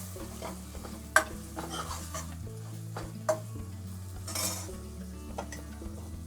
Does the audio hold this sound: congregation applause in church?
no